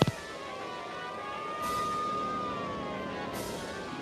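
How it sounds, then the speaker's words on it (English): Police sirens wail outside a window, a faint, distant, steady rising-and-falling tone under a low hum, with no one talking. "there's police sirens outside of my windows"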